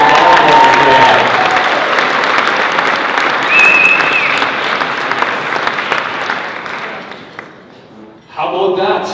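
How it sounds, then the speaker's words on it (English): A wedding reception crowd gives a sustained round of applause after the best man's call, loud and dense for several seconds, then thinning and fading out before a brief renewed burst of voices at the end. "how about a quick round of applause for my two girls, Maddie and Claire, who did a great job"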